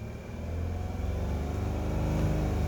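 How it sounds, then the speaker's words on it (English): A 2012 Chrysler Town & Country's 3.6L engine revs up from idle and holds a steady, loud, rumbling drone at raised RPM, close to the microphone with no talking. "Let me raise up the RPMs."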